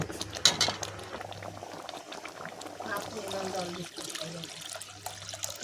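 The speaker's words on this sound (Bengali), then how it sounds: "এবার আমি এখানে দিয়ে দেবো জল" Water is poured into bubbling bitter dal with drumstick and bitter gourd in a cooking pot. Steady boiling and splashing runs throughout, with a few light utensil clinks near the start.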